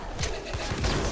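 Pistol fire in the video game Mullet MadJack: two or three quick, punchy shots in rapid succession, close and fairly loud.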